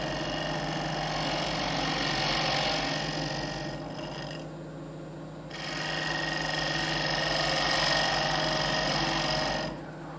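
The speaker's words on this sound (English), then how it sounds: "Ride your bevel down till it cuts." A bowl gouge cutting wood on a lathe: a continuous whirring, humming drone from the spinning workpiece with a steady cutting hiss that fades briefly midway, then returns.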